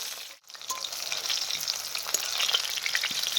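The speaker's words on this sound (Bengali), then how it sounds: "আলুগুলোকে আমি কিছুক্ষণ ভেজে নেব।" Potatoes frying in oil in a pan for a chicken curry, a continuous bright sizzle with small crackles and pops after a brief dip at the start.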